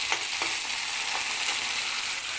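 Green chillies and chopped tomato sizzle in a pan as they are stirred, a constant, fairly quiet crackling hiss broken by a few soft scraping strokes of the spoon.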